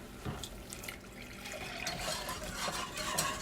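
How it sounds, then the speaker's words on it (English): A milk mixture poured into a pan for an asparagus casserole's Parmesan cheese sauce, a steady liquid splashing and trickling stream running close and continuous for a few seconds. "I'm going to add my milk mixture."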